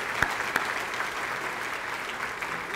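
Audience applause for the Martin High School quartet at Arlington ISD's State of the District 2018 event, a steady dense clapping that runs through the whole moment, with a couple of sharper claps near the start.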